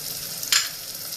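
Chopped onion and green chilies fry in oil for tarka dhal, giving a soft steady sizzle and one brief louder hiss as the onion hits the pan.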